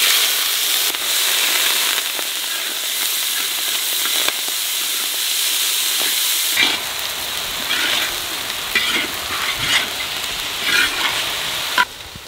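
Rice being fried in ghee in a pot for jeera rice gives a steady, close sizzle with stirring scrapes and crackles that grow louder and busier partway through, with no voices.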